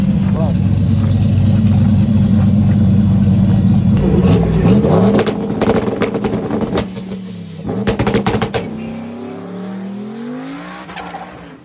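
Loud, close roar of the turbocharged Hendrick drag racing car with its 94 mm turbocharger, a sustained heavy drone that sweeps and shifts midway, crackling bursts and tire squeal, then fades toward the end; announcer speech sits underneath.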